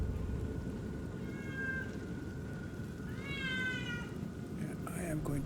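A house cat meows twice, first a shorter call and then a longer rising one, fairly close, over constant low background noise and a faint voice.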